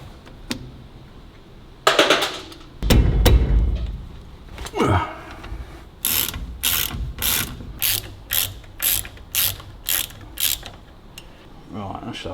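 A ratchet undoing bolts on the dust-shield back plate of a 1934 Buick during king pin work. A few scattered clicks and clanks lead into a run of quick, evenly spaced ratcheting bursts, close and clear.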